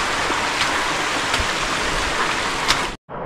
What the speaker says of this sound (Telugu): అసలు మార్నింగ్ నుంచి వర్షమే